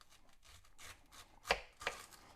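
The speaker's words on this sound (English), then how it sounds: "And be careful slicing onion." Knife slicing through an onion on a cutting board, a series of soft rhythmic cuts ending in two louder board knocks, close and faint with no talk.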